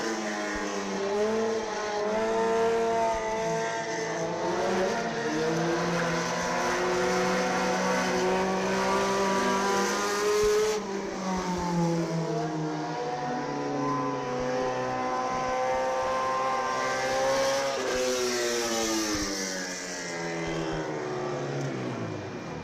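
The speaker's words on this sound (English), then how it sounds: "You roll out the Pure Stock 4-cylinder." Pure stock four-cylinder race cars rolling out onto a dirt track, heard as a steady engine drone whose pitch rises and falls as they pass, loud and continuous throughout with no talking.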